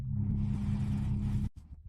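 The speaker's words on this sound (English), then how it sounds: "A shiny, luxurious foreign car pulled up in front of an upscale nightclub" A shiny, luxurious foreign car pulls up in front of an upscale nightclub: a deep, steady engine rumble that suddenly cuts off, followed by a brief, quieter low thud.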